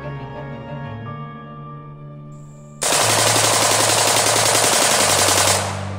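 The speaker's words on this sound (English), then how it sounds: "we're going one hand bump fire again" An AK-74M rifle fired one-handed in bump-fire mode lets off a loud, continuous burst of rapid automatic gunfire lasting nearly three seconds, coming after a quieter stretch and cutting off abruptly.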